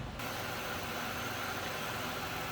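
A 2002 Chevrolet Monte Carlo SS Pace Car Edition with its 3.8-liter engine idles steadily under an open hood, a near, continuous mid-pitched hum and rumble with no voices.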